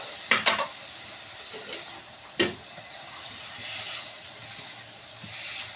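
Pangas fish sizzling as it fries in spiced masala in a pan, a steady close hiss broken by a few sharp clatters of the spoon as it is stirred.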